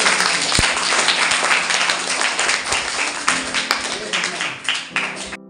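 Clapping for a schoolgirl's project, heard as a loud, close burst of hands that thins into scattered individual claps toward the end.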